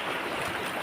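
A wide, strong river fed from Mayon Volcano rushes past, a dense, steady churning roar of flowing water, close and loud, with no talking in this brief moment.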